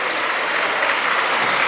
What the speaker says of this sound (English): Keep clapping, children.